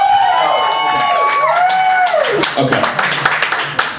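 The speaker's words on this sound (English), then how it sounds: "So let me just hear a round of applause." A comedy club crowd at an LGBT benefit show claps, whistles and cheers in a loud, dense burst that breaks into scattered clapping. Someone speaks briefly over the noise.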